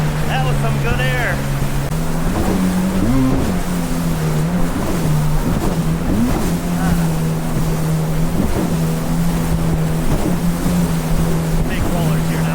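A 2024 Yamaha VX Cruiser HO watercraft rides ocean waves off Sanibel Island, Florida, its engine droning loud and close and rising and falling in pitch as it crosses swells, with wind and water rushing over it and brief voices.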